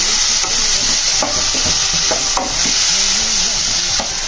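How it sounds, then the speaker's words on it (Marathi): Tomato and onion sautéing in oil, a loud, close, continuous sizzle broken by several distinct stirring scrapes, with no voices. "1 वाटी टोमॅटो टाकलेला आहे, 1 वाटी कांदा। आता आपण छानसे परतून घेऊया।"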